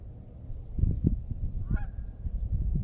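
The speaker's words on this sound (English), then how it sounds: "You're getting the call, geese, Call of the wild" Geese honk by the Nassau River in northern Florida, a few short nasal honks close by over low rumbling wind noise.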